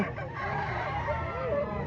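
A fighting rooster at a gamecock market crows in a single drawn-out call, heard over a busy background of voices and other fowl.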